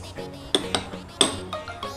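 A spoon stirs lime into a homemade sattvik facepack mixture in a small dish, giving a few sharp clinks and taps against the container at uneven intervals, close and fairly clear.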